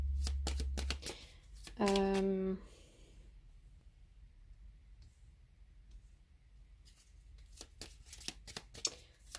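Tarot cards are shuffled close by in crisp riffling bursts at the start and again near the end, with a brief tonal chime early on and quiet handling in between.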